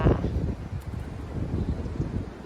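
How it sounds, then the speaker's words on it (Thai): Strong wind blows through a forest during mushroom foraging, a rough gusting rush with rustling and microphone buffeting, loud and continuous throughout. "อันนี้ลมแรงค่ะ"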